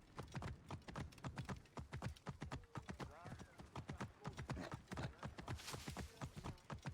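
Horse hooves clip-clopping at a steady trot in the ancient Egypt game Assassin's Creed Origins, a close, rhythmic run of hoofbeats with a brief whinny partway through.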